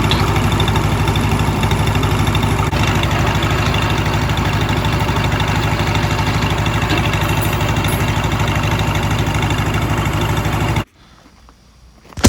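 A Lincoln SA 200 welder's engine, freshly topped up with oil and coolant during a restoration, runs loud and steady close by for about eleven seconds, then cuts out abruptly, leaving near silence.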